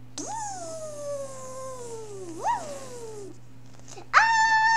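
A cat meows in a toy play scene with a pony and a baby doll: long drawn-out meows, then a short sharper one, fairly close and clear over a steady low hum.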